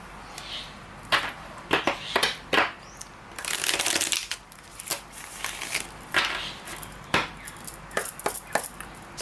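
Tarot cards being shuffled in quick riffling bursts with soft slaps and crackles, close by, repeating several times with short pauses between.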